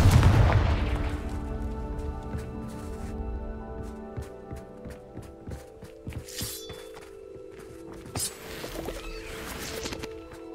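Fire spell blasts from Confringo in Hogwarts Legacy, a loud booming burst at the start followed by a string of sharp cracks and thuds over a ringing, tonal magical hum.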